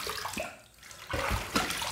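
Water splashes close by as a face is rinsed after a shave, in two short bursts of sloshing with a brief lull between them.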